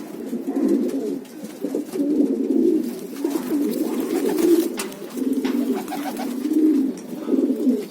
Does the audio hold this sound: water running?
no